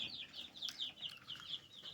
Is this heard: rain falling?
no